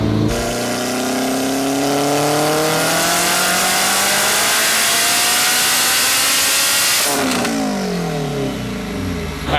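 A turbocharged all-wheel-drive Honda RSX with a sequential gearbox screams through a hard pull, loud and close, its engine note climbing steadily with quick shifts before a sharp drop and crackle near the end, no talking.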